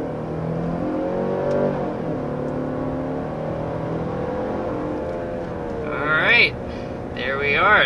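A 2023 Genesis GV70 with the 2.5T engine accelerates hard to 60 mph, a steady engine drone under continuous talk, with rising revs surging near the end.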